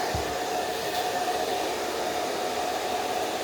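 Hair dryer blowing hot air steadily at close range onto hair roots during a blow-dry, a continuous even whoosh with a brief soft bump near the start and no talking.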